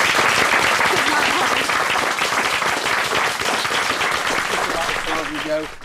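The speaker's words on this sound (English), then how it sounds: "we're going to give him a round of applause" Studio audience applause at the close of a BBC regional news tribute programme, loud sustained clapping throughout, with a few voices and murmurs rising beneath it near the end.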